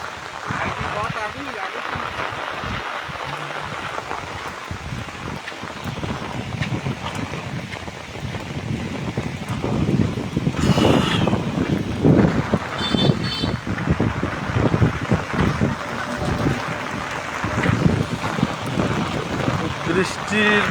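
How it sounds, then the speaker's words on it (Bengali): Rain with light wind on a village road between Matikumra and Rajbari Road, steady wind and water noise throughout with a voice talking over it. "বৃষ্টির সাথে সাথে হালকা ঝড়।"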